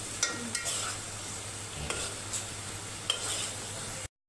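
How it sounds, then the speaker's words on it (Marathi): Masala roasting in a pan on a home kitchen stove, a steady soft sizzle with occasional scrapes and stirring clicks of a spoon against the pan, close and continuous with no talk. "मसाला भाजतोय"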